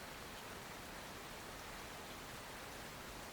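Rain falls heavily in an unbroken, noise-like roar, uniform and steady from start to finish, with no talking or distinct drops standing out.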